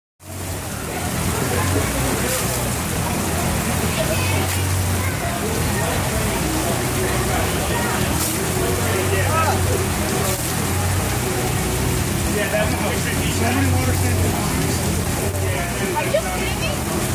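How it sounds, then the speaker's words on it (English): Heavy rain pours down steadily at an outdoor fair, a dense, loud hiss of drops drumming on surfaces that fills the whole stretch without a break. "But that was quite the downpour."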